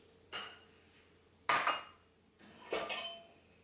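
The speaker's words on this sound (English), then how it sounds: "I'm gonna put away my dishes" Dishes clatter as they are put away in a home kitchen, with three separate clinks and clanks spaced about a second apart, close and moderately loud.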